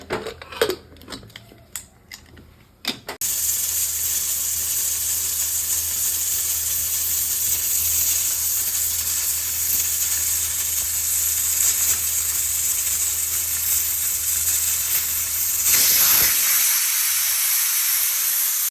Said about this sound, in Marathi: कुकरची एक शिट्टी झाली आहे.